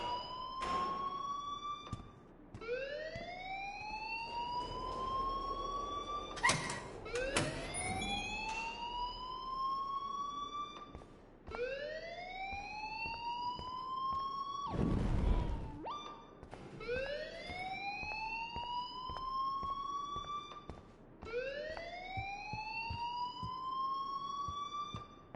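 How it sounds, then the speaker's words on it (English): An alarm blares in a video game, a rising and falling siren that loops steadily for about half a minute, loud and continuous, with a few brief noisy bursts over it. "please turn off that alarm since that's your job"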